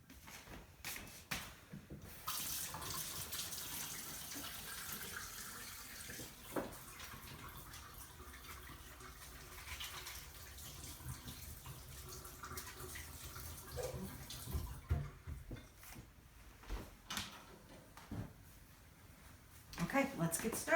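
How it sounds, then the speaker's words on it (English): Hands are washed under a running kitchen sink tap, a steady close gush of water lasting most of the time. Scattered knocks and clatters come before and after it. "So while I wash my hands and get ready"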